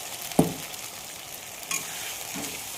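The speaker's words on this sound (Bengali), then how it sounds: "এবার মশলাটাকে আমি ভালো করে কষবো।" Spices, cumin and coriander powder with ginger-garlic paste, fry softly with onions in a pan, giving a faint steady sizzle broken by a couple of brief stirring clicks.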